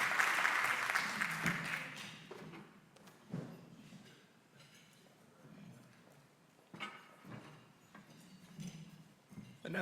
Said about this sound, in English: Can we kindly give them a big round of applause?